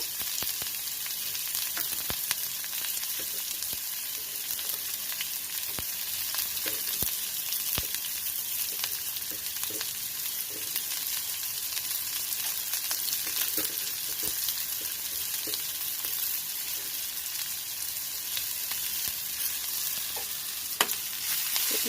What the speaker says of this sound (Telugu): బాగా ఫ్రై చేస్తున్నాను